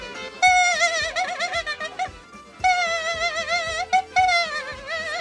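Clarinet playing an ornamented Balkan melody with wide wavering bends and trills, lively and close, in a folk dance style with no voices.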